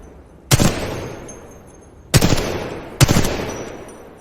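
Three loud, sharp weapon shots ring out in a Titanfall 2 training range, each separated by a pause and trailing off in a long echoing decay.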